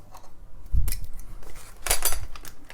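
A small mystery package of metal mounting brackets is shaken, giving two bursts of loose metallic rattling and clinking up close, with a quiet pause between them.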